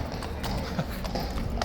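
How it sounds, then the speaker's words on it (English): Hooves of a horse clip-clop across the yard at Horse Guards, a steady close rhythm of hoof strikes over busy crowd murmur. "The horse coming back into the yard because he doesn't want to leave."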